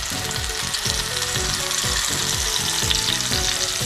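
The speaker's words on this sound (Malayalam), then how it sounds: "എണ്ണയിലൊക്കെ ഒഴിച്ച് വെളിച്ചെണ്ണയാണ് നമ്മൾ എടുത്തിരിക്കുന്നത്. എന്നിട്ട് നമുക്ക് അതിലേക്ക് നമ്മുടെ മീൻ ഇറക്കി വയ്ക്കാം." Varal fish fries in coconut oil in a pan, a loud, steady close sizzle and crackle throughout with rhythmic stirring scrapes and no talk.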